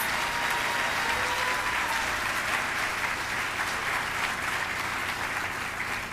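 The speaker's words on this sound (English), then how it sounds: "Can we please give a round of applause to all of these incredible employees?" An audience applauds employees at a celebration of excellence, with steady, dense clapping that holds at full strength throughout.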